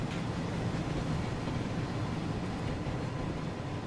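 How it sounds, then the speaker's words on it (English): Steady rumble and roar of a train arriving at a platform on the West Coast Main Line in Train Sim World 5, a continuous broadband wash with no clear breaks. "Oh, there's my train."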